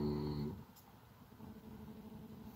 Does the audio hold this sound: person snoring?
yes